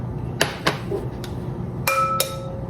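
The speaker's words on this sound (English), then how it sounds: "I'm going to crack 2 eggs, and these are just large eggs" Large eggs cracked against a hard edge and dropped into a kitchen bowl, giving several sharp, close taps and clinks spaced apart, the last two ringing briefly like glass.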